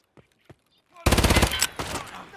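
Automatic gunfire in the Escape From Tarkov video game erupts after a second of near quiet with a few faint clicks, firing as a loud, rapid burst of close shots and then trailing into echoing reports.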